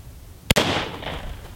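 A rifle with a 25/300 meter zero is fired at a target 10 meters away on a shooting range, giving one sharp, loud close crack with a short, rolling echo that fades quickly.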